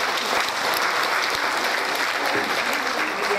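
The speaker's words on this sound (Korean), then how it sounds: "박수 한번 보여주세요." Audience applause at a Korean community reception in Atlanta welcoming a visiting lawmaker, a dense, steady clapping that fills the room throughout.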